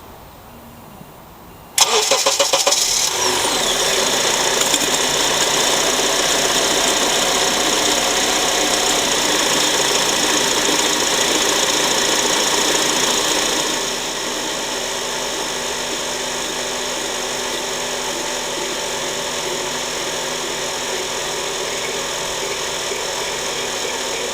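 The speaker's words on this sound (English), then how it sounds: "I'm gonna run the engine, turn it side to side" A 2004 Honda Accord engine cranks and starts abruptly, then runs at a steady idle while the steering is turned side to side, its tone shifting and dropping slightly partway through, with no talking.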